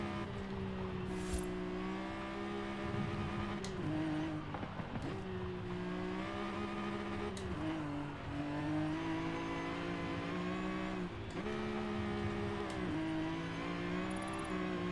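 A Nissan 370Z Nismo engine revving on a track in Forza Horizon 5, a steady loud drone with repeated dips and climbs as the car shifts through corners.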